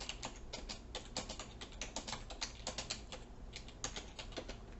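Fingers typing a question on a computer keyboard, a quick, even run of soft close key clicks with no voices.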